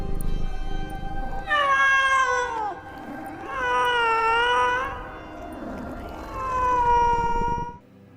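Several cats meowing and caterwauling in the Catwoman film, three long drawn-out wailing cries rising and falling in pitch, loud and close with short gaps between them.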